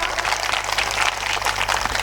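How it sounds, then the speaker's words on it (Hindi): Crowd applause at a Gondwana political speech during a Rani Durgavati birth anniversary event, a dense continuous wash of clapping heard throughout, with no speech over it. "आप सबके लिए जोरदार तालियां बजाइएगा"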